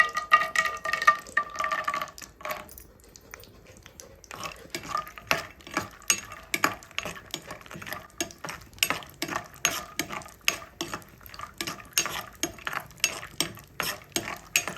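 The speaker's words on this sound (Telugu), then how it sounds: "ముందు నెయ్యి వేసుకొని జీడిపప్పు మరియు బాదం పప్పు వేయించుకోవాలి." Cashews and almonds frying in ghee in a pan for South Indian carrot halwa, heard as a long run of rapid clinks and scrapes from a spoon stirring against the metal pan, fairly close, with a faint sizzle underneath.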